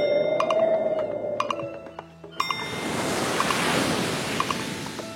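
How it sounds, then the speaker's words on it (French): Waves surge and wash in a broad rushing hiss after a quieter opening with a tone and faint clicks. "le son de la mer et des vagues"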